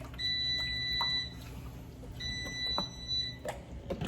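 A kitchen appliance beeps that the asparagus is done, two short runs of high electronic beeps spaced about two seconds apart over a hum of room noise, fairly close but moderate in level.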